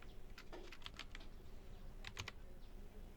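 Typing on a computer keyboard while writing code for an Android app, scattered quick key clicks in two bursts with a pause between, close and quiet over faint background hiss.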